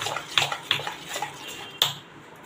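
Moong dal batter being whisked in a metal bowl for crisp pakoda, with a few sharp clinks of the whisk against the rim over a soft, wet scraping swirl, close and fairly quiet.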